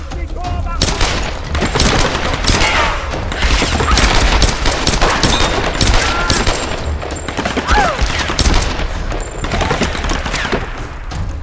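Dense, loud gunfire fills Tomb Raider 2013 combat: rapid bursts of shots and booms over game music and effects, with a voice heard now and then.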